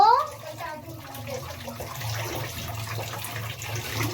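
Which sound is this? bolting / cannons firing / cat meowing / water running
water running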